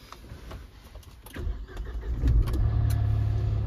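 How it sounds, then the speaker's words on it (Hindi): A Mahindra XUV 3XO engine cranks over and catches, then settles into a steady low idle, heard close. "ओके, तो मैं करूंगा अभी गाड़ी को ऑन"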